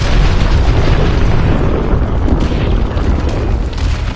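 Loud, sustained booming missile blasts rumble against the hard points of a hydroelectric dam in the video game Advanced Warfare, a dense, continuous wall of low roaring explosions with no voices.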